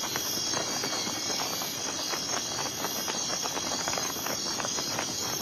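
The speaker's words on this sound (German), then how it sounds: "Und Motten und andere Insekten. Und weil die nachts herumschwirren, sind eben auch die hier unterwegs." Insects buzzing and chirring at night as a radio play sound effect: a continuous, dense, high trilling drone with fast pulsing chirps that stays level throughout, with no talking.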